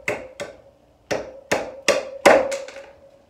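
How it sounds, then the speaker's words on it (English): Hammer blows on a reclaimed wood board while knocking out a nail, seven sharp, close strikes in an uneven rhythm with short ringing tails, no voices. "hammer if you can."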